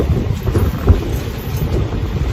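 Loud, dense rainfall pours down continuously, a heavy broadband wash with a deep rumbling undertone and no voices.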